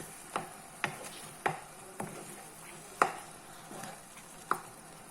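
Banana chocolate halwa with jaggery being stirred in a pan, giving a series of sharp spoon-on-pan knocks and scrapes at irregular intervals over a quiet background, with no talking.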